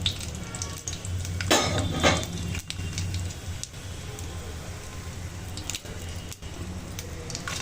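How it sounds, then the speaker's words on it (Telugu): Cumin and mustard seeds dropped into hot oil for a tempering, a steady close crackle and sputter with a few sharp clinks of a metal pan or spoon, no voices. "ఆయిల్ వేడైందండి, దీంట్లో మనం జీలకర్ర ఆవాలు వేసేసుకుందాము."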